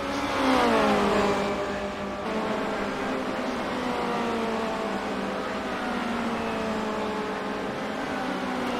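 Formula Renault 2.0 race cars in the iGP sim racing game at Phillip Island roar past, engine tones sweeping down in pitch as they pass, then a steady high-revving drone of several cars running close together.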